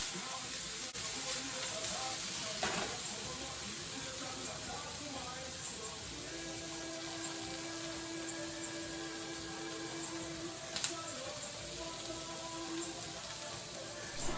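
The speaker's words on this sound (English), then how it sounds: "I want to saute everything else just a little bit first" Vegetables sauté in coconut oil in a pot for ackee and saltfish, giving a steady broadband sizzle and hiss throughout, with a faint tonal hum in the background and no talking.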